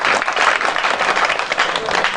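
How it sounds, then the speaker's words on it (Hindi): An audience at an evening poetry gathering in a temple courtyard bursts into loud, continuous clapping that stays dense and even throughout. "एक बार इनके सम्मान में जोरदार तालियां बजाओ"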